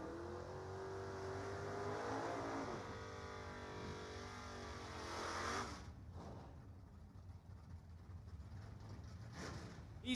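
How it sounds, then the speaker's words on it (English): Pontiac drag race car accelerating down the strip at a dragway, a loud sustained engine roar with rising harmonic revs for about five seconds, then a rougher, noisier engine sound continuing to the end. "Is Drew Beal in the near lane. Driving this gorgeous Pontiac."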